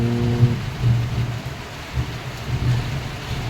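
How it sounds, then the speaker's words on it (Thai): Steady rain hisses throughout while a low rumble of thunder rolls beneath it, loud and continuous, with no voices. "โอ้ยฝนใหม่ฝ้าใหม่เนาะวันนี้"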